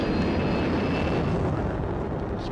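SR-71 Blackbird jet engines run at max thrust with afterburners lit on takeoff, giving a loud, continuous, dense roar that stays steady throughout.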